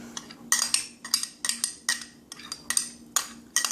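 A utensil clinks steadily against a bowl while biscuit dough is folded and mixed with pepper jack and cheddar cheese, giving a regular series of sharp taps about twice per second, up close and alone.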